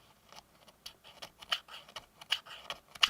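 A coin scraping across the anodized aluminum frame of an iPhone 17 Pro, heard as a series of short, dry, close-up scratches in irregular bursts that grow sharper toward the end, alone without talk.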